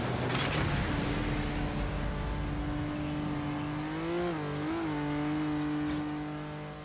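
Hot Wheels car in Forza Horizon 3 drives with a steady, loud engine drone that holds a constant pitch, wavers briefly mid-way as the revs dip and recover, then settles and fades slightly at the end; no talking.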